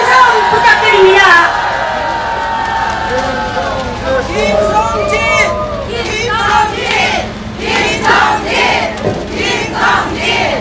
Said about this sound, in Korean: 뜨거운 함성 부탁드립니다